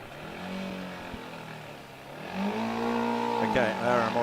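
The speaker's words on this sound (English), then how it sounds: "RMIT heading off now, and this is an internal combustion engine powered car making their way around the skid pan" An internal combustion Formula SAE race car circles a skid pan at a 2024 Formula SAE Australasia event, its engine droning and rising in pitch as it accelerates, heard at a moderate distance beneath a commentator's talk.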